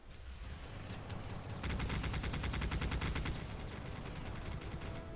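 Rapid gunfire in the GameCube shooter Geist, with a player firing for headshots: a fast, even run of shots sounds through the middle of the clip over low, steady game sound.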